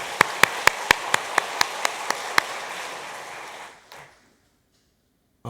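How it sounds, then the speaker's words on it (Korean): A church congregation claps at a Sunday worship service: about ten loud, even, rhythmic claps in unison over a wash of scattered applause, then fading to near silence. "하나님께 영광의 박수 한번 같이 하겠습니다"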